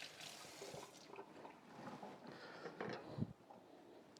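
Tap water runs over a tomato being rinsed in a sink, a steady soft splashing stream with a few small bumps as the fruit is turned, at low level with no talking.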